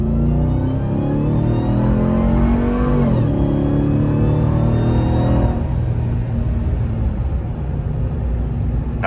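A 700-horsepower work truck accelerates hard from about 20 to 65 mph. Its engine note rises steadily and loudly, with a brief dip partway through, then holds a strong, close roar.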